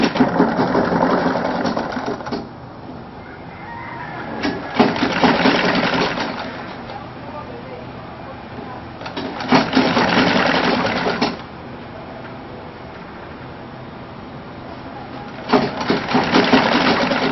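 A sewing machine stitches African men's wear (buba and sokoto) in loud, rapid bursts of whirring needle clatter lasting a few seconds each, separated by quieter pauses.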